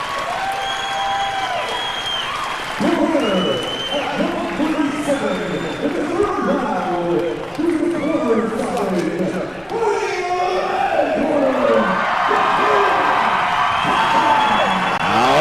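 A live crowd at a mixed martial arts event cheers, whoops and applauds loudly after a technical fight ends. The roar carries steadily for about fifteen seconds, with shouted voices rising through it and the applause swelling again near the end.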